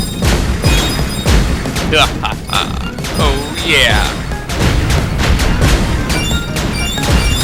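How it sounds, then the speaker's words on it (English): Rapid bursts of loud explosions and crashing impacts in the Kirby's Epic Yarn video game, with playful chiming effects layered in and a voice talking over the blasts. "My explosions explode your explosions."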